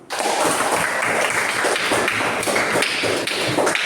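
A class of school students claps together in a classroom, a dense burst of quick, sharp hand claps with some rhythmic surges, fairly close and steady throughout.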